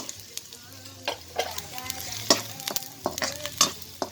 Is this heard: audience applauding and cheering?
no